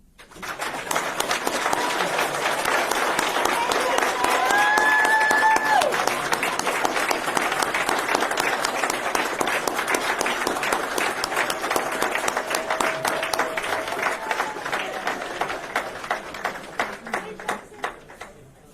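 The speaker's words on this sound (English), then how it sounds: "Now we can all clap." Audience at a Savannah Fire Department graduation ceremony applauding the firefighter class, a long, loud, continuous applause from a large crowd with whoops and cheers mixed in, thinning to scattered claps toward the end.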